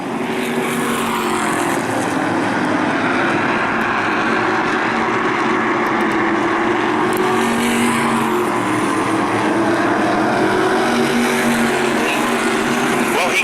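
Stock race cars circle the New London-Waterford Speedbowl oval in a steady, unbroken engine roar that stays loud throughout, while an announcer talks over it.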